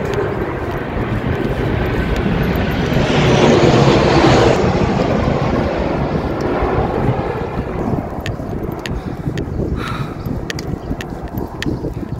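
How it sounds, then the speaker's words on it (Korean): An airplane flies low overhead near an airport in Pohang, a loud roaring rumble that swells to a peak and then fades, mixed with wind buffeting the microphone. "비행기가 머리 위로 날아다니는데 고막이 찢어질 것 같아요, 진짜"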